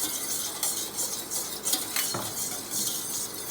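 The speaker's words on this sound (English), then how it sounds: "So give it a stir till it is completely mixed" A spoon scrapes and clinks around a bowl while stirring eggless whole wheat chocolate cake batter, in steady close strokes with a few sharper knocks against the side.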